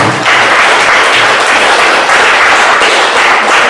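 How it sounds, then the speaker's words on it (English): Audience applause at a political rally, a loud, dense, continuous wash of clapping from a large crowd, sustained and close throughout. "that deserves a big, big round of applause."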